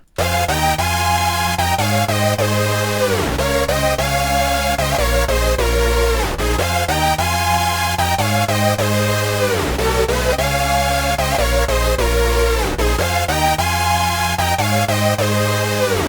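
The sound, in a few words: synthesizer leads, chords and bass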